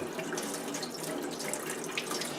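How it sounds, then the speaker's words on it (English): Water from a tap spray attachment turned on high, rushing in a steady, loud, broadband hiss as it hits and pushes through an N95 respirator mask, continuous and close with no talking. "Turn on the water high"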